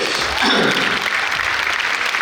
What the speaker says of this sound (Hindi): जोरदार तालियां अंजलि के लिए